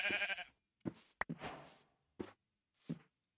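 Sheep bleating in a cold outdoor setting, several short separate calls with quiet gaps between them, fairly close and moderately loud.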